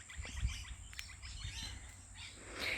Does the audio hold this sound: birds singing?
yes